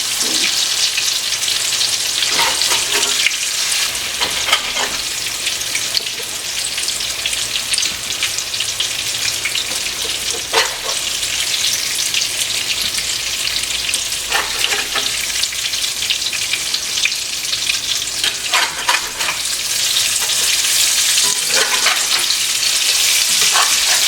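Zucchini cakes frying in oil, producing a loud, continuous sizzle with bursts of spattering crackle and occasional stirring clatter.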